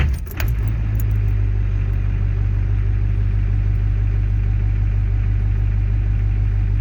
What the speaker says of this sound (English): This will be my cold start for the day.